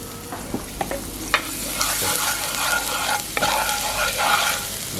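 Chopped ginger and garlic stir-fried in a hot pan for a shrimp curry-powder dish give off a steady, close sizzle, broken by sharp scraping clatters of the spatula tossing the mix.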